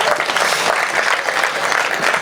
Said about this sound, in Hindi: तो एक बार रोहित शर्मा के लिए ताली बजाओ।